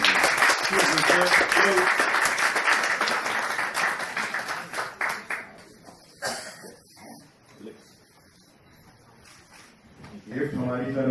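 Audience at a visit to an infertility medical center bursts into loud applause that fades over about six seconds into quiet, with a few stray claps and speech returning near the end.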